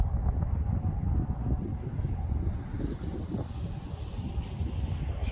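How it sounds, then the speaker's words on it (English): Wind gusts outdoors at a hand-launch test site, a low rumbling buffet against the microphone that rises and falls steadily with no voices. "It's pretty windy today."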